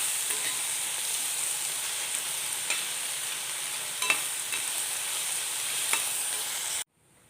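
Okra (ladies' finger) sautéing in a pan over a medium flame, with a steady close sizzle and a few soft spatula scrapes. The sound cuts off abruptly near the end.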